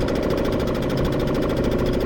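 Suzuki 2.5 outboard motor idling on an Old Town 106 kayak on a river, a steady close mid-pitched chugging drone with no break.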